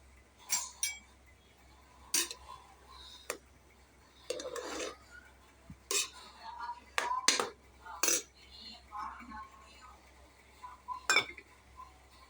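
A pressure cooker is opened during tamarind rice cooking, followed by a string of sharp metallic clinks and clanks of pots and utensils at irregular intervals, close and distinct over a quiet background.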